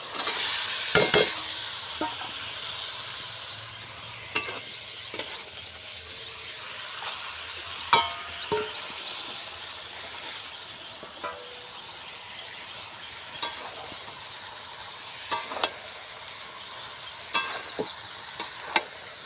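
Fried potato, ridge gourd and drumstick are stirred in a pan of hot oil and spices, giving a soft steady sizzle broken by sharp, irregular spatula scrapes and clacks against the pan.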